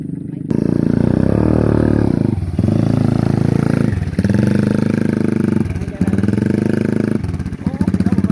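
A motorcycle taxi rides through rice fields at harvest time, its engine close and loud, surging and dipping in several repeated bursts of revving with brief lulls between.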